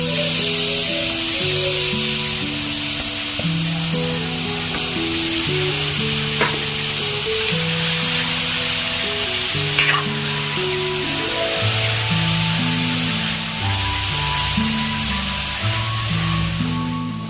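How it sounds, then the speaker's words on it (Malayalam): Finely chopped onion sautéing in a pan for shark thoran makes a loud, continuous frying hiss that holds steady throughout, close up, with a couple of brief clicks of stirring and no voices. "നമുക്കതിലേക്ക് ചെറുതായിട്ട് അരിഞ്ഞിട്ടിരുന്ന സവാള കൊടുക്കാം."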